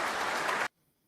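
Canned applause sound effect played during a political talk show, a dense burst of clapping and crowd noise that cuts off abruptly into near silence after well under a second.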